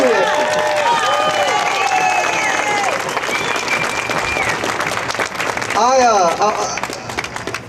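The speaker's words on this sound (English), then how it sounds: "give a round of applause for these kids back here who are reading these quotes" Audience applause at an outdoor Tea Party Tax Day rally in Evansville, Indiana, a steady dense clapping from the crowd, with voices and a few cheers mixed in.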